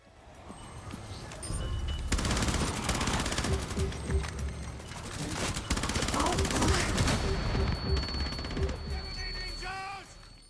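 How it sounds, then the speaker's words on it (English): Gunfire in the co-op shooter Rainbow Six Extraction: rapid sustained automatic bursts, loud and dense, with brief pauses and electronic game tones near the end, alone without talking. "The shooting in Extraction feels great."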